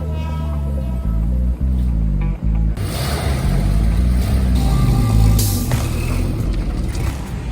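A 1965 Chevrolet Impala engine cranks with a few choppy turns, then catches and runs with a loud, rough rumble that swells as it revs, heard close up.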